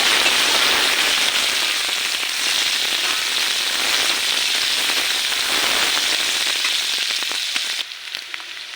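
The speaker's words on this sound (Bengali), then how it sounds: "হালকা করে ভেজে নেব পেঁয়াজটাকে ভেজে নেব" Onions frying in a pan make a dense, rain-like sizzle that holds steady and close for most of the stretch, then drops away abruptly near the end, leaving faint clicks and no talking.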